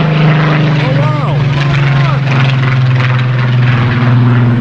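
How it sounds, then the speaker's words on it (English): A small old army propeller plane takes off, giving a loud, steady droning engine roar that fills the whole stretch, with voices faintly audible beneath it. "there's a tiny old army plane that's just took off"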